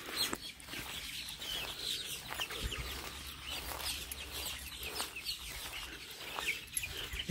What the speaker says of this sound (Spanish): Aquí tenemos gallinas.